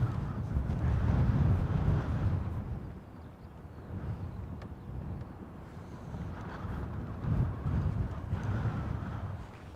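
A strong breeze buffets the microphone at Dublin Airport, producing a low, rumbling roar that surges and eases in gusts over a steady background.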